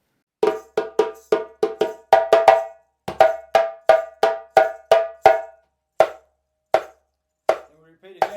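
Djembe playing the call phrase of the traditional Guinean rhythm Fakoly: crisp, close hand strikes and sharp slaps in quick groupings, a dense run and then more spaced hits toward the end, loud and alone.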